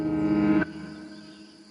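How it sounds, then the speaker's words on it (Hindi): A frog gives a warning call beside a jungle river, a short, buzzy, tonal croak that stops abruptly and leaves faint background hum. "मेंढक ने और ऊंची और गहरी आवाज में चेतावनी दी।"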